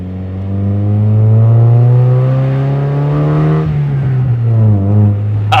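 Mazda Miata engine revving while driving: a loud, steady multi-harmonic drone that rises and holds, then dips and climbs again as the car pulls away, close and alone with no talk.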